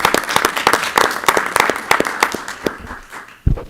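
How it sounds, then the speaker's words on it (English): At a board of education meeting, a room of people claps with loud, close individual hand claps over a softer crowd wash. It thins out toward the end, and a final clap sounds after a brief lull. "So wanted to recognize Lucas and give him a round of applause."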